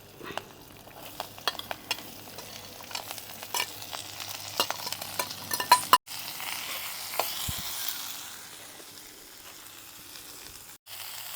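Onions sautéing in a pan for a cashew nut theeyal, a steady close sizzle with scattered clicks and scrapes of stirring, continuous throughout with no talking.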